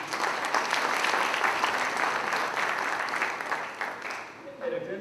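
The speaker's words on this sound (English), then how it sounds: "So if you'd join me in a round of applause for the teachers." A school audience applauds the teachers with dense clapping that holds strong, then thins out near the end as a voice begins to speak.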